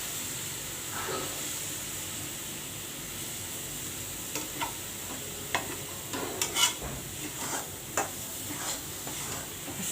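A spoon stirs a besan mixture in a pan over a gas flame, with scattered scraping strokes over a constant soft sizzle and hiss.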